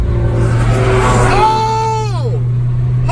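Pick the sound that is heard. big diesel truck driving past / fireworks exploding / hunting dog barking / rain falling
big diesel truck driving past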